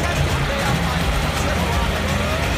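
A John Deere or Arjun Novo tractor engine revs in a loud, steady, close roar with no clear breaks, and voices talk faintly underneath.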